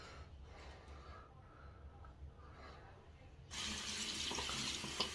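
Tap water starts running suddenly partway through to rinse out a Simpson Duke 3 best badger shaving brush, a close, steady hiss after a few seconds of quiet room sound.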